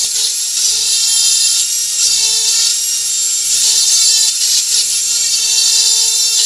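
A Dremel rotary tool with a flexshaft power-carving a wooden tree: a steady, high-pitched whine that holds at close range throughout, with small shifts in pitch and load as the bit cuts into the wood.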